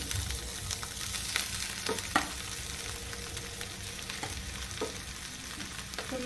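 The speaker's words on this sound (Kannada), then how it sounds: "ಡ್ರೈ ಫ್ರೂಟ್ಸು ಫ್ರೈ ಮಾಡ್ಕೊಂಡಿರೋ ತುಪ್ಪಕ್ಕೇ ನಾನು ಪಂಪ್ಕಿನ್ ಹಾಕೋತಾ ಇದ್ದೀನಿ" Diced pumpkin fries in ghee left over from frying dry fruits for pumpkin halwa, giving a steady, close sizzle with occasional scrapes of stirring.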